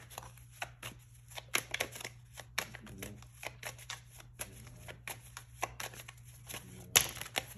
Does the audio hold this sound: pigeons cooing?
no